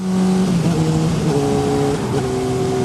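A motorcycle engine revs loudly and steadily nearby, its pitch rising and falling in a few surges over a couple of seconds.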